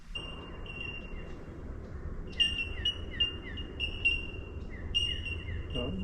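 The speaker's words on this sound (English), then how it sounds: "What's the bird? Bell miner." High, clear ringing bell miner calls repeat as steady pinging notes over a low outdoor rumble, with several birds overlapping at a moderate distance, on a mountain hike in Queensland.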